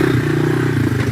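Honda ATC250ES Big Red three-wheeler engine running hard and revving on a river ride, a loud, close, steady droning buzz that sounds alone.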